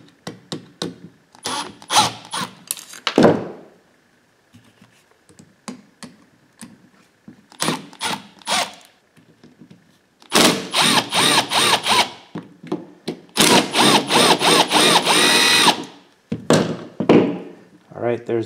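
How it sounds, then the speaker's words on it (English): Screws being removed from a Peg Perego ride-on toy gearbox motor, with close clicks, clunks and bursts of rattling tool noise in several stretches, separated by pauses, and someone talking between them. "It'll be these two screws here, these screws here to remove the motor."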